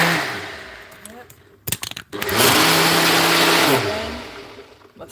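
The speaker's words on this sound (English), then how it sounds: "I'm going to blend this one more time and then add it there" Blender whirring through banana, plantain, oats, peanut and almond porridge, a loud sustained motor whine lasting over a second after a few brief clatters, then winding down.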